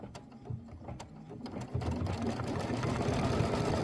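An embroidery machine stitches the wing tack-down line on a Kimberbell mini quilt, starting with scattered clicks and then settling into a steady, fast mechanical whirr that runs on alone.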